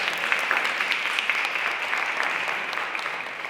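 Steady applause from an audience at a community partnership announcement between the Calumet Township Trustee's Office and United Way of Northwest Indiana, dense even clapping sustained evenly throughout with no voices over it.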